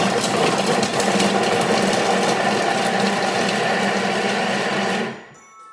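A food processor blitzing ginger and shallots, a loud, steady whirring grind lasting about five seconds and then stopping.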